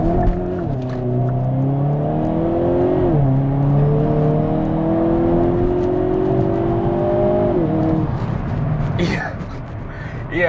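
Hyundai Kona N in N mode accelerating hard in first gear, engine note climbing loudly through rising revs with quick shifts, close and strong, then backing off with crackles near the end.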